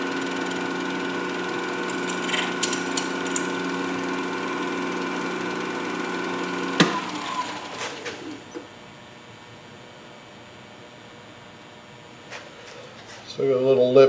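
A lathe spins an acrylic pen blank with a steady mechanical hum while a tool lightly scrapes it, then the machine winds down to a quieter lull before a louder burst near the end.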